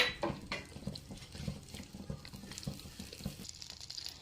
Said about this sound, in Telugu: ఇప్పుడు స్టవ్ మీద ఒక ప్యాన్ తీసుకొని ముందుగా కట్ చేసి పెట్టుకున్న బటర్ని